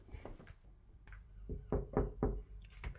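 Several knocks on a hotel room door, a couple of lighter taps early on and then three firm, evenly spaced knocks near the middle, with faint room noise and no talking.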